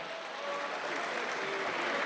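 Applause for a singer at a live Christmas choir event in Ollolai, a steady wash of clapping from a crowd that sounds somewhat distant and even throughout.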